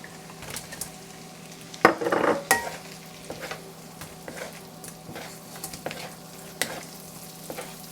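Shrimp frying with garlic in a pan for salted egg shrimp, a constant sizzle broken by a loud splash as the shrimp drops in and then scattered clinks and scrapes of a spatula stirring, close by.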